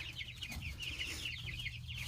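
Several chickens cluck softly and repeatedly over a steady low background hum, with scattered higher chirps from birds nearby.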